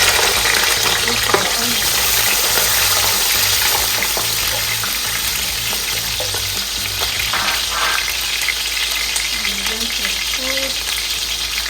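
Chopped onion frying in hot vegetable oil in a pan for a mackerel fish stew, a steady dense sizzle and crackle running throughout with occasional stirring clinks and faint kitchen sounds, no talking.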